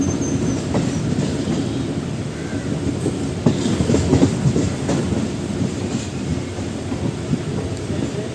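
A MEMU passenger train runs on a single line near Palakkad, filling the space with a steady, loud rumbling roar and a faint rhythmic clatter of wheels on the rails. No one speaks.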